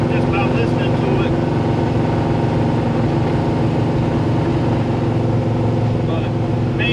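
A Ford F100 race truck's 429 Hemi engine runs at a steady, loud, close idle with a rough, throbbing rumble and slightly out-of-tune carburetors, unbroken throughout.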